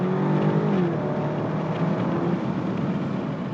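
A BMW X6 M60i SUV engine accelerates nearby with a rising, steady growl and road roar, continuous and fairly loud without any talking.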